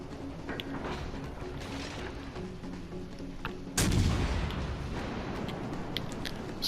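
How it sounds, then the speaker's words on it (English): World of Warships Legends battleship main guns fire in one heavy, sudden boom that rumbles off slowly, standing out over a low background of game ambience and faint mechanical noise. "See if we can get a lucky shot on the destroyer"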